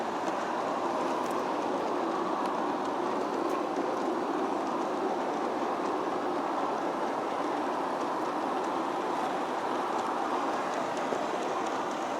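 A G scale 1/29 model Denver & Rio Grande Western freight train with a long string of cars rolls along an outdoor layout loop, giving a steady, continuous rumble and clatter that holds at an even level throughout.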